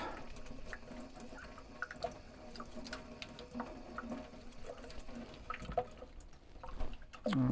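Water from a tap or hose rinsing lacquer thinner off a diecast model car part, a steady close wash of splashing and dripping with irregular small spatters throughout, no talking.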